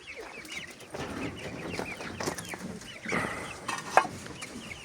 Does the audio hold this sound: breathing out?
no